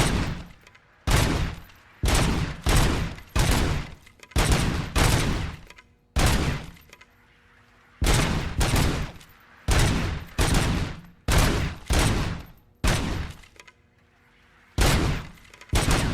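Bursts of RoboCop's gun firing in the video game Robocop: Rogue City, loud rapid volleys of about a dozen sustained bursts separated by short pauses, with no voices.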